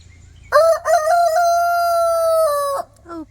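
A rooster crows once, loud and close, a long sustained cock-a-doodle-doo lasting over two seconds, followed by a brief softer call.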